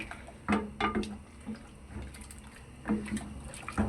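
Hot water being poured off boiled meat into a sink, with irregular splashes and pours coming in short bursts against a low background, fairly close and moderately quiet.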